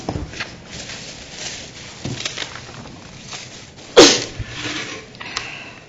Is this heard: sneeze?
yes